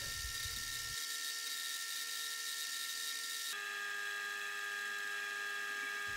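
A lathe turns down a metal workpiece for a head tube reamer facer in a bicycle frame build, giving a steady high-pitched machining whine with tonal ringing. The pitch shifts partway through as the cut changes, with no talk.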